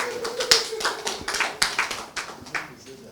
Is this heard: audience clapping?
yes